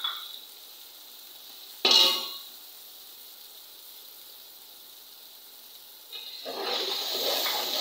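Spices hit hot oil in a pan with fried onions and ginger-garlic paste, producing a sharp sudden sizzle burst that fades, then a quieter hiss and a renewed, steadier crackling frying near the end.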